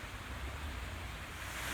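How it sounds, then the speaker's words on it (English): Water running over rocks beside a reflection pond in a garden, a steady broadband rush with no breaks, close and fairly loud throughout, with no talking. "You can probably hear the water going off the beautiful rocks"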